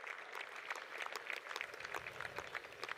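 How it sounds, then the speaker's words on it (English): Steady applause from a baseball crowd at a college game, Clemson against Presbyterian, a dense patter of many hands clapping at moderate distance, continuous and fairly even for a few seconds with no talk over it. "a nice hand from the crowd as Jarrell's up now"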